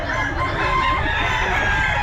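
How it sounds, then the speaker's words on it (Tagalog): A rooster crows at a pet market, a loud continuous call that holds steady for the whole stretch against constant crowd and market noise. "Ayan manok niya oh."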